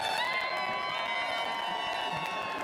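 Arena crowd at the DOTA 2 The International grand finals, a dense roar of cheering and shouting voices filling the space steadily, loud and close throughout.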